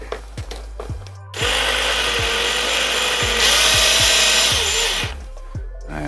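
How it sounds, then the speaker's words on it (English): A power drill drives a self-tapping screw into an armrest on a Yamaha Drive G29 golf cart, first with a few short clicks and bursts, then one sustained loud whirring run for about four seconds before stopping, with no talk. "I'm not going to tighten these all the way because I want to get the self-tapping screw started"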